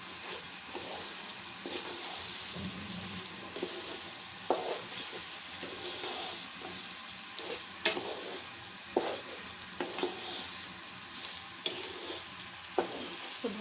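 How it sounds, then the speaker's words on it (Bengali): Washed rice frying in a pan for pulao, giving a steady close sizzle broken by repeated sharp scrapes of a spoon stirring the grains, with no talking. "চালটা এখন ভেজে নিব।"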